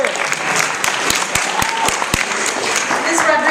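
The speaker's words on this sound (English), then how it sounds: "It is okay to clap for that." Audience applause at a December high school showcase, honoring the December graduates: steady dense clapping throughout, with a few sharp individual claps standing out near the front.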